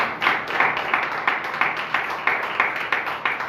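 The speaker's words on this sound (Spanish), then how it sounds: "Denle un aplauso grande al Señor." A church congregation clapping in steady rhythmic unison at a worship service, a loud even beat of many hands at a brisk tempo close by with no talking.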